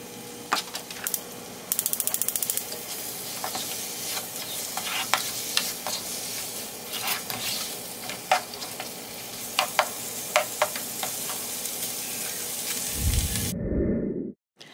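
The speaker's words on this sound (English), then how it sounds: "we are going to saute this for about 3 minutes per side" Shrimp with garlic and seasonings sautéing in a pan for a creamy garlic Parmesan dish, a steady close sizzle with scattered sharp clicks and scraping knocks, ending abruptly in a short low rumble.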